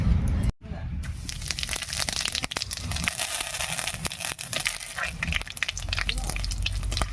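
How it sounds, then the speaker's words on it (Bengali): Whole cumin and bay leaves crackle and sizzle sharply in hot oil with dense popping and scraping stirs, close and fairly loud throughout after a short gap at the start. "এবারে ফোড়ন দেবো আর ফোড়ন দেবো গোটা জিরা আর তেজপাতা দিয়ে"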